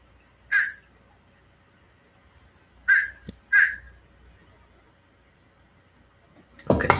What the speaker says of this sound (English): So now these four sounds should be that fish crow call.